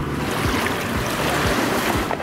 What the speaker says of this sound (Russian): Мы на море.